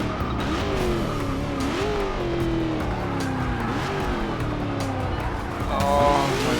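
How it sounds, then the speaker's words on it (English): Race car in Forza Motorsport 6 on Xbox One braking hard into a corner, a continuous loud engine tone sliding down in pitch with tire squeal and skidding, ending with a rising screech, no talk. "Just before it went to bed, I started braking, and it's still overshot the corner."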